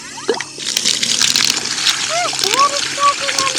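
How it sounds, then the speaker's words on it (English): Muddy water sloshes and splashes out of an emptied container outdoors, a continuous wet spattering close by, with a voice and other voices talking over it. "It's still splashing."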